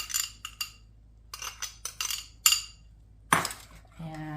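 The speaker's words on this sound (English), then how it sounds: "And stir up the mixture." Spoon clinking and scraping against a bowl while butter is stirred together with garlic and parsley, a string of close, sharp taps and a louder clatter near the end, with a voice speaking briefly.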